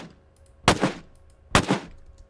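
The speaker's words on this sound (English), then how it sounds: "there are multiple gunshots in each recording" Two sharp, loud gunshots about a second apart, each with a brief echoing tail, against near silence.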